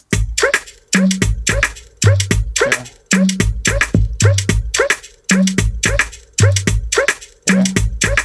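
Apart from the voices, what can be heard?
udu drum sounds, dry African percussion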